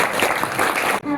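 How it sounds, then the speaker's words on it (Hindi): Children at a yoga camp clap their hands together in a dense burst of applause, loud and close, cutting off abruptly near the end. "ताली बजाइए"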